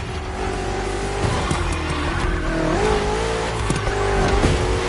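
BMW M cars in a racing video game: a sustained engine drone whose pitch climbs and shifts as the car accelerates, with short tire squeals and skids cutting in over the steady motor noise.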